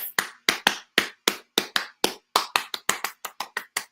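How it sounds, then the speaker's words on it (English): A single person claps sharply by hand, about seventeen crisp, close claps, first evenly spaced and then quickening into a faster, slightly uneven run, with nothing else heard between them. "Guys, clap it up for me because your girl did what?"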